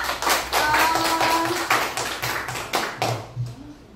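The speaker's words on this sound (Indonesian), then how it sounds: "Oke, tepuk tangan dulu untuk kita semua." Classroom students clap hands together in a dense, fairly close burst during an Islamic religious education lesson, with faint voices mixed in and the clapping thinning slightly toward the end.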